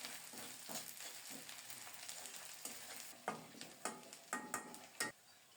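Washed dried fish fries with garlic and onion in a pan, a soft sizzle broken by a series of sharp scraping stirs that grow louder and more frequent toward the end.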